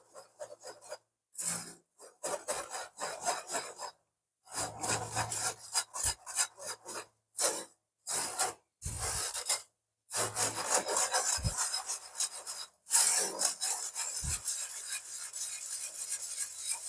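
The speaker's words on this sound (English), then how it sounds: "So I'm just going to use the whisk in this just to get it through" A whisk pushes chocolate cake mixture with cocoa powder through a sieve in bursts of close, gritty rubbing and scraping, separated by short silent pauses, with no speech.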